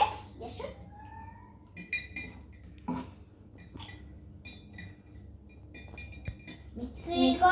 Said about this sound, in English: Actually, I'm just going to mix with the spoon.